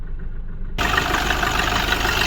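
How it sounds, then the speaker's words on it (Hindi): Mahindra Bolero Neo engine idling roughly with a misfire and knocking, a steady close mechanical rumble that turns suddenly louder and fuller partway through and then holds, with no talking. "इंजन का कंडीशन देख सकते हो आप लोग, कार हमारी स्टार्ट है। इस तरीके से नॉकिंग कर रही है, ग्रिप कांप रही है।"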